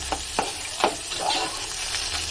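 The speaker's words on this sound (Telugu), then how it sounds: "అలాగే ఉల్లిగడ్డలు. ఇవి కొంచెం లైట్గా వేయించుకోవాలంటే" Onions fry lightly in a pan, with a soft steady sizzle punctuated by a few quick scraping stirs, heard up close with no voices.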